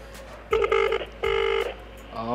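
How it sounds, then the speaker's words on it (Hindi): A phone gives two bursts of rapid dialing tones in quick succession, then a different ringback tone begins at the end. The sound is clear and close. "और मैं करता हूँ कॉल, देखते हैं"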